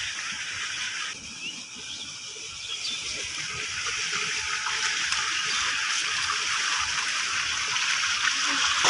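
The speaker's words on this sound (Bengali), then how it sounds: "এই পেঁপেটা সর্বপ্রথম সুন্দর করে ধুয়ে নিই" Water pours and gushes steadily as a raw papaya picked from a tree in a forest is rinsed, a continuous close splashing stream that grows slightly louder toward the end.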